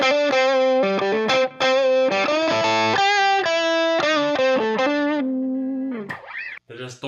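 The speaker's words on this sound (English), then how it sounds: "The distortion pedal is a lot more kind of this like mid scoop kind of sound" An electric guitar is played through a Boss DS-1 distortion pedal, with loud, sustained distorted chords and single notes ringing out and changing in quick succession before a short fade and a final pluck.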